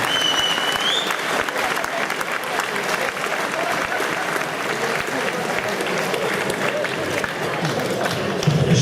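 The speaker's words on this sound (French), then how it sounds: "On applaudit bien fort." Audience applause at an award ceremony held at a boxing event, dense steady clapping from a crowd lasting throughout, loud and close with a few scattered voices mixed in.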